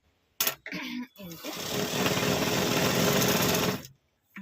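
A sewing machine runs a stitching line along the hem of leggings, starting with a few short bursts, then a loud, steady continuous whir close by for about two seconds before stopping, with no speech over it.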